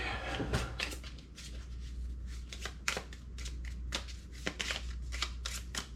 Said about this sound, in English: So I got to shuffle the deck